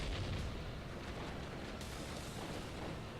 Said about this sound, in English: it's able to take it out with a high explosive shot